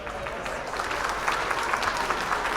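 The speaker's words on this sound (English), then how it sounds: "Give a warm round of applause for Donald Trump." Audience applause welcoming a guest on a comedy talk show, a steady, moderately distant patter of many hands clapping with no break.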